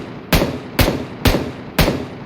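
Four sharp, evenly spaced gunshots in PUBG Mobile, each a loud crack with a short decaying tail, firing at a steady rhythm with no talk.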